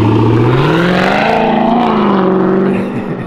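A straight-piped widebody Scat Pack car engine revs hard with a loud, rumbling exhaust, pitch rising and falling in a long throaty surge close by.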